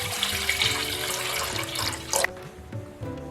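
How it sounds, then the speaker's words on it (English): Water poured from a container into a pot set on a stove over medium heat, a steady close splashing pour that cuts off abruptly near the end, leaving quiet kitchen sounds. "I'm going to pour in about half of my water."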